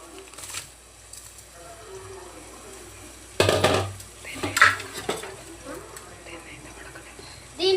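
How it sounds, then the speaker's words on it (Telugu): Washed rice tipped into a pot of boiling water for coconut rice, a sudden clattering pour with a brief scrape of utensil against metal, then lighter clinks and a quiet bubbling background. "మనం కడిగి పెట్టుకున్న బియ్యాన్ని అయితే వేసేసుకుందాం."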